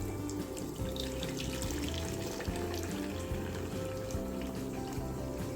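Pho broth ladled from a stockpot and poured into another pot, a steady close liquid pour with a continuous splashing rush running the whole time, no talk over it.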